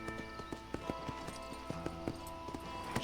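Horse hooves clip-clop at a steady walking rhythm in the video game Red Dead Redemption, quiet and close, with soft game ambience and a faint low voice beneath.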